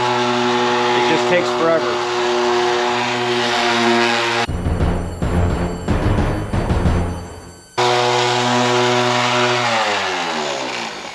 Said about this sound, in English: Now I'm just taking the polish pad. You can see it's coming out. Polishing out.